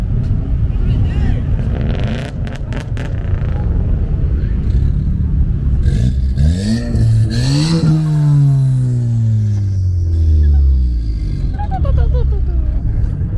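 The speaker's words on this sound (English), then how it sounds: "Rev it." A car revving at a car meet in Denver, the engine roaring up and falling back in a loud, close burst, with a low rumbling idle throughout and people talking nearby.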